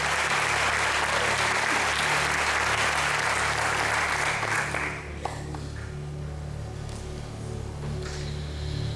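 A church congregation claps loudly during a conference service, with full, dense applause for about five seconds before it thins out, while a low hum continues underneath.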